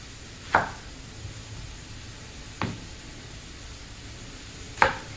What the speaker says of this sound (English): we will chop up an onion and go ahead and throw it in there with the ground beef.